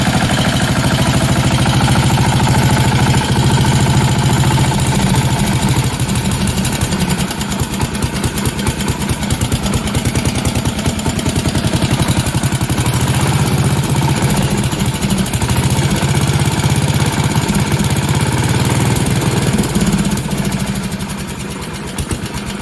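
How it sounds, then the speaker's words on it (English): The engine of a Sears SS15 lawn tractor runs after repair with a loud, rough, steady chugging and rattle, close by, holding for over twenty seconds before easing off slightly at the end. "So here is the engine running after I figured out what was wrong and got everything figured out."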